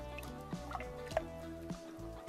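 Water sloshes and drips in a small bath as a bearded dragon is bathed, with soft, irregular splashes and trickles heard up close and quiet.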